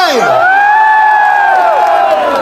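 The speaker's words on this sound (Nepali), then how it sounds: "सो तपाईहरुको लागि जोरदार ताली" A festival crowd at a Nepali celebration in Dubai cheers and whoops loudly, voices rising in a sustained roar with a high shout sweeping over the noise.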